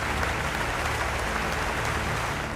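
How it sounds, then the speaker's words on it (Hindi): Thunderous, sustained applause from a standing ovation fills the Canadian parliament chamber, a dense and steady wash of clapping with no pauses or voices. "एक बार नहीं 2 बार स्टैंडिंग ओवेशन।"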